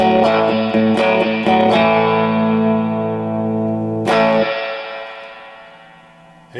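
An electric guitar plays sustained chords through a 1964 Fender Reverb 6G15 reverb unit with fresh capacitors, a few sharp strums ringing out loud and washy, then a final strum slowly decaying into a long reverb tail.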